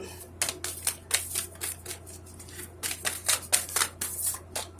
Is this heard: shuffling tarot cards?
yes